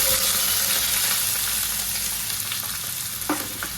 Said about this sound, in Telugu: ఆయిల్లో కొంచెం జీలకర్ర వేసుకోండి పచ్చిమిర్చి వేసుకోవాలండి